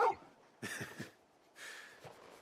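Torgal, the dog from the Final Fantasy XVI video game, lets out a few short whimpering yips in separate bursts, fairly close and moderately loud, with no one talking.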